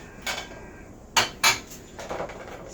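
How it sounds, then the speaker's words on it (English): Glass dishes knock and clink together as they are gathered up to go into a dishwasher, a few separate sharp chinks spaced apart, close by, with no talk. "Some glass dishes that are going to go in the dishwasher."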